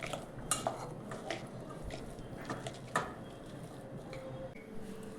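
Soaked peas pressed and coarsely mashed by hand in a bowl give quiet, close squishing and soft clicks against the vessel in an irregular rhythm, faint and alone.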